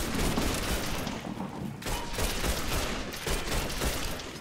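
Dense, continuous video game gunfire fills the whole stretch, a loud rattling fusillade of overlapping shots with brief dips and no pauses.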